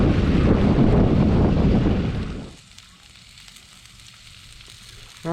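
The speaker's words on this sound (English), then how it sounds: "We got sausage and peppers cooking for supper tonight." Sausage and peppers fry in a pan at a Kring Point State Park campsite, a loud, close, crackling sizzle for a couple of seconds before it drops away to quiet outdoor background.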